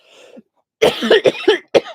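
A few sharp coughs in quick succession, close and loud, after a brief soft vocal sound.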